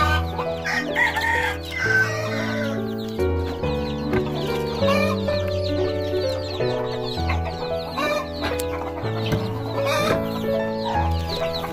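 On a poultry farm, adult chickens and newly hatched chicks fill the air with dense, continuous clucking and crowing that stays loud and close throughout, with no speech.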